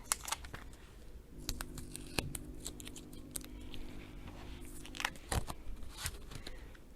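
Scissors snipping a small foam square for a Christmas bells card, a run of close, crisp cuts and paper crinkles over roughly seven seconds with no talking.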